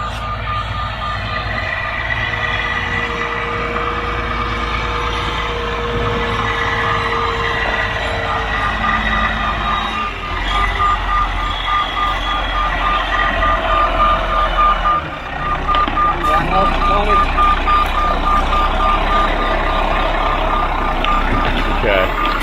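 A truck backs up with loud repeating reversing beeps over a heavy rumbling diesel engine, close and sustained, with brief pauses in the beeping.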